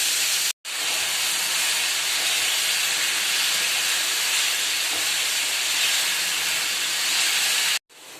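Greens dropped into a pan of onions already frying with salt make a loud, steady steam-like hiss that fills the whole stretch, cut by brief gaps near the start and end, with no talking.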